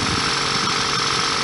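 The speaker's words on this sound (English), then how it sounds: "The engine's revving alright." Engine of a 1999 Toyota Celica ZZT231 still warming up with a cold air intake fitted, a steady loud mechanical drone held without pause.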